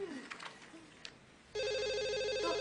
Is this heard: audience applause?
no